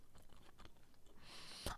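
Crunchy pizza topped with Big Mac is chewed close up, giving soft, faint, repeated crunching bites with a louder crisp snap near the end, and no talking.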